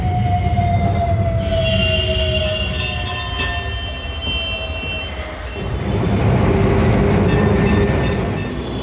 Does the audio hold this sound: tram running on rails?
yes